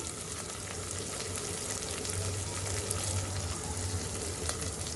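Vegetables and tarhana roasting in a pan for Turkish tarhana soup give off a steady, close sizzle with a continuous frying hiss that holds at an even loudness throughout.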